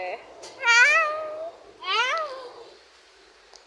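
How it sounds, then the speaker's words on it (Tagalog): Two drawn-out meows from a house cat, each rising then falling, close and fairly loud with a quiet pause between them and no talk over them. "ito po ang pinakamalaking pusa"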